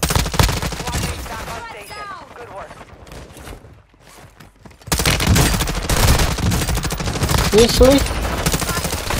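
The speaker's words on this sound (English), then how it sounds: "Are they shooting through the wall?" Dense bursts of rapid automatic gunfire in a Call of Duty Warzone match, loud and close, drop away briefly before a heavy volley resumes, with a player voice breaking in.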